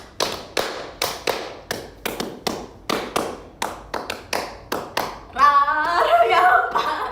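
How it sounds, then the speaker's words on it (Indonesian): Hand claps count off a song intro during a live stream by JKT48 idol members, sharp evenly spaced close claps in a steady rhythm, then a burst of singing and voices takes over near the end. "intronya kita mulai dengan tepuk tangan"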